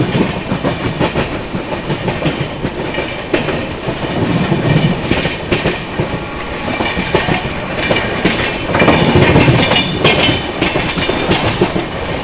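The Rajdhani Express runs at speed while overtaking local trains, giving a loud, continuous rumble with rhythmic clickety-clack of wheels over rail joints and swelling roars as the parallel trains pass, with no talk.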